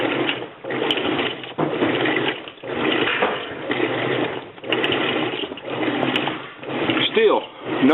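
A faulty washing machine runs with water but its drum does not spin, making a steady mechanical whirring with rhythmic surges and faint sloshing, while someone talks over it.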